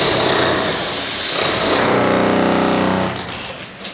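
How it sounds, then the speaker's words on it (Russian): A power drill bores into walls during a clinic renovation, a loud continuous grinding whine holding steady for several seconds before tapering off near the end. "Сверлят не зубы, а стены."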